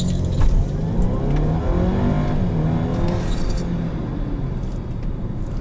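A 2019 Audi A4 S-Line fitted with an aftermarket intake launches hard under launch control, its engine roaring loud and close as the revs climb steadily in a continuous rising drone.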